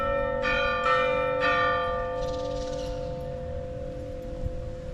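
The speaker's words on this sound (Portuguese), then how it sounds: "Chega bem na hora de tocar o sino." Church bell ringing out in the town of Socorro, its repeated strikes ringing over steady traffic and street noise, clear and moderately near, with the tone lingering and fading toward the end.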